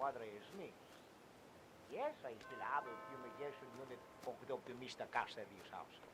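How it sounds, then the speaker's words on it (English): A doorbell chimes in the Hitman 2 video game, a few sustained tonal rings in the middle of the clip with someone talking before and after it. "I'll just go ahead and ring the bell."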